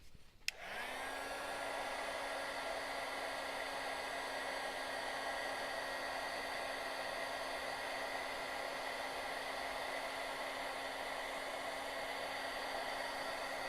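A heat gun blows steadily to heat-set paint on a gourd leaf cut-out, starting with a click and then holding a constant, close, loud whooshing hum with a faint whine for the rest of the stretch.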